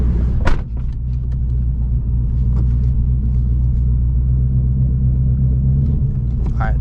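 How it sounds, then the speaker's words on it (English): A Ford Mustang GT S650 idles with a deep, steady low rumble as it creeps slowly forward onto a vehicle scale, close by, with a few faint clicks and taps over the engine drone. "I'm gonna move the car up a little bit too."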